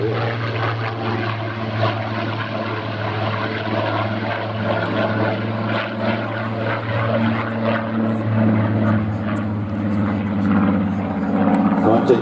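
A Supermarine Spitfire, the RAF fighter in service since 1938, flies past at an air festival with a steady, loud propeller engine drone that holds throughout and swells slightly near the end.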